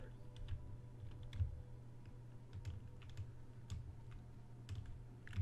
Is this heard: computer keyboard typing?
yes